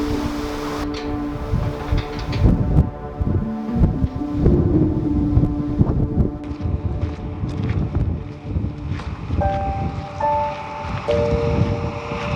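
Strong, cold wind buffets the microphone around the 135-kilometre mark of an ultra running race, gusting loud and steady with some tonal whistling and rattling.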